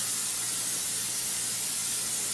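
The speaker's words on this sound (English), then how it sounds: "we're going to go ahead and spray down our dish" Cooking spray hissing steadily onto a 9 by 13 glass baking dish, one continuous close burst of spray with no talking.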